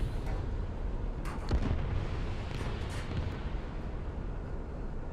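A tank's ammunition rack detonating in War Thunder, a heavy booming blast with sharp cracks rising out of a constant low rumble of battle, followed by a rolling tail.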